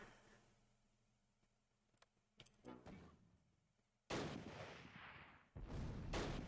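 Mortar fire in the wartime strategy game Close Combat: Last Stand Arnhem: faint scattered thumps, then two loud, broad blasts that each ring out for a second or so, with no talk.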